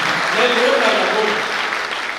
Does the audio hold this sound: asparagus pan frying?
no